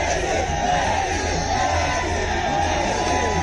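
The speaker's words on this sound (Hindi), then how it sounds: "भीड़ में मेसी के नारे लगातार सुनाई दे रहे थे" A large crowd gathered outside Kolkata airport for Lionel Messi, a dense continuous roar of many voices with shouts and cheers, steady and loud throughout, suggesting chanting.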